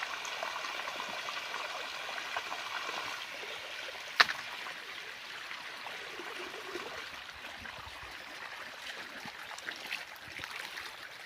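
Steady trickling, splashing water runs continuously from a pipe on a farm, fairly faint, with a brief sharp knock partway through.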